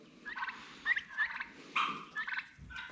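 Farm turkeys gobble in a string of loud, close, warbling bursts, about five calls over three seconds, with short gaps and no talking.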